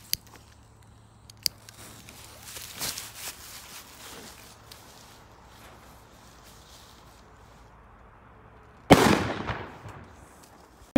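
Blue Dampflitz 3 firecracker from Weco bursting outdoors at New Year's Eve: one sharp, loud crackling blast with a brief spray of fizzing crackle after it, preceded by faint distant pops and quiet background rumble.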